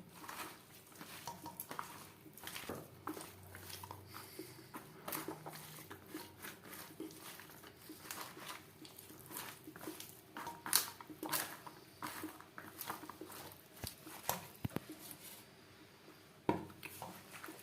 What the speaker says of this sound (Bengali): কাঁচা সর্ষার তেল সমস্ত উপকরণ দিয়ে বেশ ভালো করে মেখে নেবো